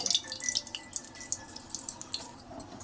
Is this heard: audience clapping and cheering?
no